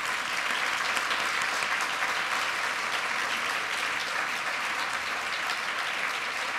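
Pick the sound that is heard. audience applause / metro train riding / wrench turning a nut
audience applause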